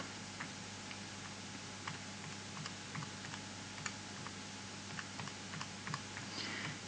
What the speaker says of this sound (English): And I'll type that into my calculator quickly.